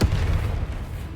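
The Expelliarmus spell is cast in the video game Hogwarts Legacy, a loud, deep, booming blast that fades quickly over about a second.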